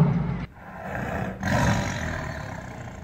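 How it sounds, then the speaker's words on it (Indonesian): A King Kong roar built from reversed lion and tiger roars, two loud, close, drawn-out growling bursts separated by a short pause, with no talk over them. "Versi 1933 menggunakan auman singa dan harimau yang di-reverse."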